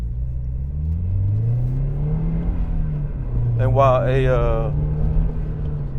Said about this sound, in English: that guy revved at me.